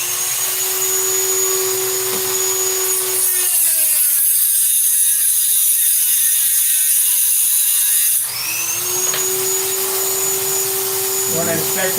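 A blade cutting a threaded part with lacquer running down it, a loud machine hum before and after a harsh grinding cut lasting several seconds.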